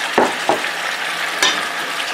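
Fresh cut tomatoes go into a hot pan of frying garden egg stew, giving a steady loud sizzle broken by about three sharp stirring scrapes, with no voices.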